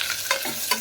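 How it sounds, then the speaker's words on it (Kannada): Onions go into a hot pan for tomato rice and fry with a close, steady sizzle, broken by a few brief scraping stirs in under a second. "ಈಗ ಈರುಳ್ಳಿ ಹಾಕ್ತಿದ್ದೀನಿ"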